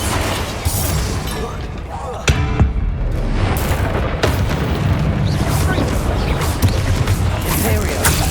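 Confringo spell explosions in Hogwarts Legacy, several booming blasts and bursts over game sound effects, with a sharp impact around the middle and a voice calling out spells.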